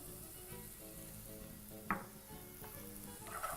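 Onions frying in melted butter with paprika and cayenne being stirred, a quiet steady sizzle with a sharp utensil clink partway through and light scraping near the end.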